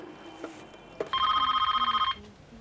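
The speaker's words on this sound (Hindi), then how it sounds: "प्रेमा जी को फोन कैसे?" A telephone rings once, a bright, rapidly trilling ring lasting about a second, close and clear against quiet room noise.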